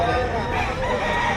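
A rooster crows at a busy open-air chicken market in Lipa, Batangas, heard under loud crowd babble and nearby voices.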